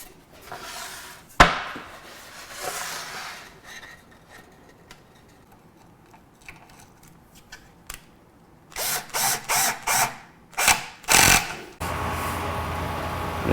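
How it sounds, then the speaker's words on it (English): Pocket holes are drilled into wood with a power drill in several short, loud whirring bursts near the end, after quieter handling knocks and clatter, close by and without talk. "I'm going to do two more holes while I've got this up here."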